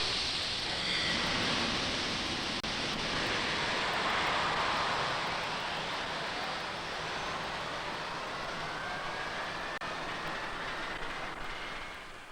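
Jet airplane engine roar, a broad sustained rushing noise with a slowly sweeping whine, steady and fairly distant, with no voices.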